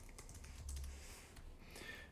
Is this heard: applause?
no